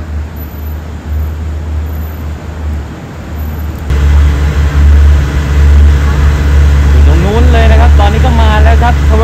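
An SRT Sprinter diesel railcar working rapid train 998 rolls into platform 11 at Bangkok station in the evening, a deep engine rumble growing louder and nearer, with squealing tones near the end and a station announcement voice over it.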